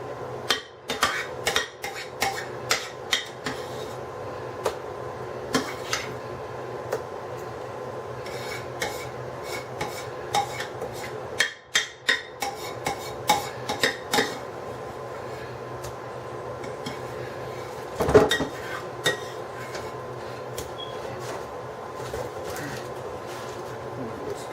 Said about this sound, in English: Over here with the spoon, almost like I'm icing a cake.